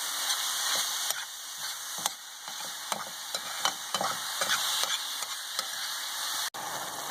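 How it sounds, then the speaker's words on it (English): Ground beef with garlic and onion sizzles steadily in a pan while a utensil stirs and scrapes it in repeated strokes, the frying hiss continuous and close. "you'll mix it again to add the garlic and onion"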